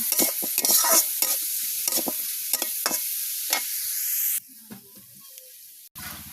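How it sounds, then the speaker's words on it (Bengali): Onions frying in oil in a kadai over a clay stove, stirred with a spatula in rapid scraping strokes over a loud hiss that cuts off abruptly, followed by quieter scattered clatter. "পেঁয়াজগুলো বাদামি কালার হওয়া পর্যন্ত ভেজে নিব।"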